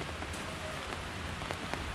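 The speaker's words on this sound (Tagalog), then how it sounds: "Ay, umuulan na." Steady rain patters on surfaces, a dense, even hiss with scattered louder drops.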